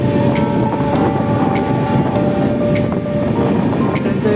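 A passenger train's sleeper coach running on rails, heard from inside as a loud, steady rumble and rattle with faint metallic clicks throughout, and no talking.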